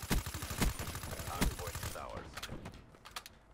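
Gunfire rattles in a first-person shooter video game on the Nuketown map: rapid, loud bursts of automatic fire that thin into scattered, fainter shots.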